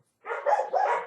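A dog barks a couple of quick, sharp times close by, then stops.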